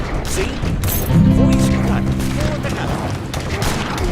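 Musket volleys crackle in Age of Empires III battle, a dense fusillade of overlapping shots with mechanical clatter, loud and continuous, while someone talks excitedly over the fire.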